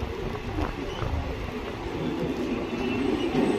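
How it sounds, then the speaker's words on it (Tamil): Passenger train pulling out of Chennai on an overnight trip, a steady low rumble of the rolling carriages swelling slightly as it gathers pace, heard from inside the coach with faint voices in the background. "நம்ம ட்ரெயின் இப்போ மூவ் ஆக ஆரம்பிச்சு"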